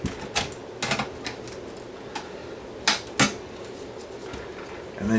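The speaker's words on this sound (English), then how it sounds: "you just took your side cutters and you just started cutting" Side cutters snipping metal tabs on a Pioneer SX240 receiver chassis during a no-sound repair: several sharp, close clicks and snaps spaced irregularly, with faint handling noise between them.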